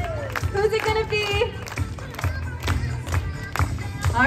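An outdoor lumberjack show crowd at the Medicine Hat Stampede claps and cheers in bursts of applause, mixed with an announcer's amplified voice and hollow thuds.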